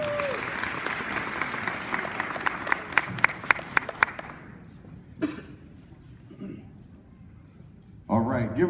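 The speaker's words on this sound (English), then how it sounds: "One more time, a round of applause for those young people." An audience at a sober and safe driving campaign event claps for several seconds, with a few sharp nearby claps standing out before it fades. Quieter room noise follows, and a voice starts speaking at the end.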